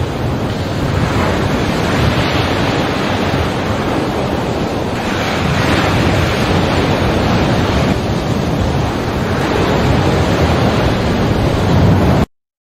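Ocean waves wash steadily as a loud, broad surf roar, with gusty wind buffeting the microphone and swells rising and easing in slow surges throughout before cutting off abruptly at the end; no one speaks.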